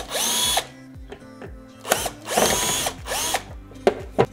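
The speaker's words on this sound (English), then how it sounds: "So I'm just using a drill and I'm opening up the drawers like this," A cordless power drill backs screws out of the rear of the drawers on a 16-year-old IKEA piece, with several short whirring bursts separated by pauses and ratcheting clicks, close and fairly loud.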